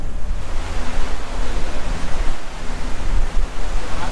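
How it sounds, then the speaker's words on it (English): Water rips fast past a boat through a bridge, a loud continuous broadband rush with gusty surges and no speech. "So that's the water moving through this bridge, you guys. It's ripping."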